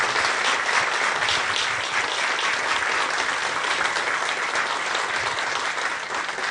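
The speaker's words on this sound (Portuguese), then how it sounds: "eu gostaria de que nós aplaudíssemos calorosamente o nosso convidado pela excelente" An event audience applauds a guest speaker with loud, steady, dense clapping that carries on without a break and tapers only slightly at the end.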